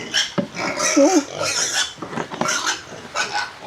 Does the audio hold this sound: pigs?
yes